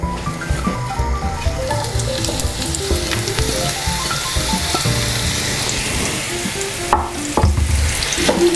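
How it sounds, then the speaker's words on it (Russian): Onion sizzling steadily in odorless vegetable oil in a pan with occasional scraping and stirring sounds, continuous and close, with music playing underneath. "Помешиваем его и даем слегка обжариться."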